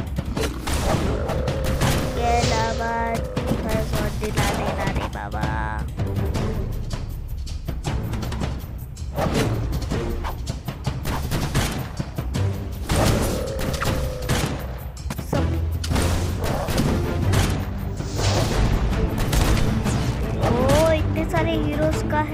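Dense, continuous battle barrage from the Hero Wars mobile game, layered explosions and impacts pounding without pause under game music, with someone talking over the din throughout.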